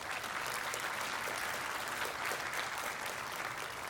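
Audience applause at a 2023 commencement ceremony for graduates, a steady, even wash of many hands clapping, sustained and somewhat distant in a large space.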